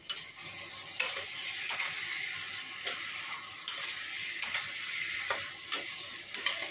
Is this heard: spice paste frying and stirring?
yes